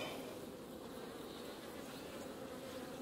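Dense, steady buzzing of many honeybees close by as a beekeeper lifts frames from the hive, a continuous drone with no talking over it.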